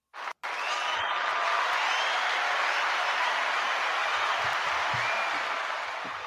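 Applause and cheering from a studio audience greeting a podcast guest, a dense, steady wash of clapping that starts abruptly after a brief gap and holds loud throughout.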